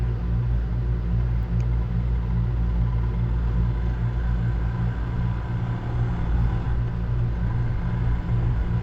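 A Royal Enfield Himalayan motorcycle rides through a neighbourhood, its engine a steady, low rumble heard from the saddle with wind noise, staying fairly even as the bike pulls smoothly.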